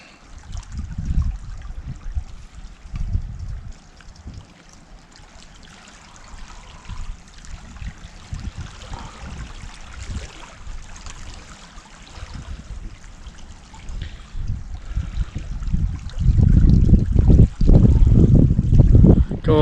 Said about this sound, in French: L'eau de la rivière